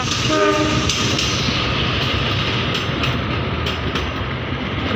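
The Turangga passenger train rumbles past close by in Indonesia with a loud, continuous roar, a horn blast sounding near the start and a faint clatter of wheels throughout.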